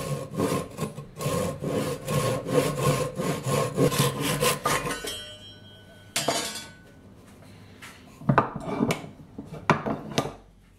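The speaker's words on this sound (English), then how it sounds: "Let's go cut the wedges off." A handsaw cutting wedges off pallet wood, about five seconds of steady rhythmic back-and-forth strokes, then a brief scrape and a few scattered knocks and rubs, close and moderately loud.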